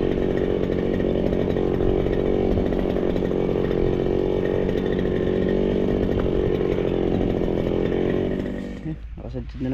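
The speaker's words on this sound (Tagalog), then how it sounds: "Grass cutter na ulit tayo." Grass cutter running at a steady high whine while cutting grass outdoors, a loud continuous engine drone that drops off abruptly near the end, with a voice talking over it.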